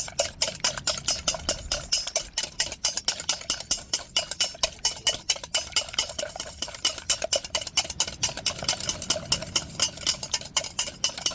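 A spoon stirring spiced batter for kuzhi paniyaram in a metal pan, giving a fast, steady run of scraping clicks close up that continues for several seconds without pause and with no talking.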